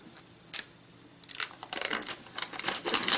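Plastic wrap peeled off an external desktop hard drive, a sharp crinkle followed by a run of close, busy crackling and tearing that grows louder toward the end, no voices.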